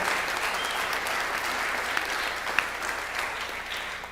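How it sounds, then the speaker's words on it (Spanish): A church congregation gives a welcoming round of applause, a steady even patter of many hands clapping at moderate volume with no talk over it. "Así que vamos a dar un aplauso de bienvenida a toda la gente que nos está viendo."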